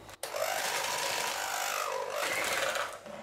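An electric mixer beats butter, sugar and lemon zest into batter for Amerikaner cakes, giving a steady, moderately quiet whir that starts abruptly and runs continuously.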